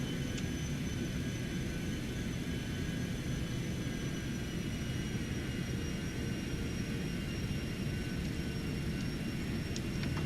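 Citation X jet engines run at full power during a go-around at Renton Municipal, a steady loud roar with a constant high whine heard from inside the aircraft, unbroken throughout.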